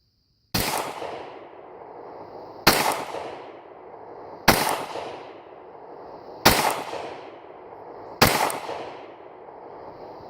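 Five loud, sharp Glock pistol shots fired at a target, evenly spaced about two seconds apart, each with a brief echoing decay outdoors, with no talking.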